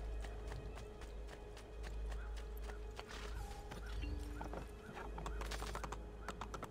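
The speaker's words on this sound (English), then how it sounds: "I know how to steer my horse." A horse gallops in the video game Assassin's Creed 2, with rapid rhythmic hoofbeats and an occasional whinny over a steady low rumble.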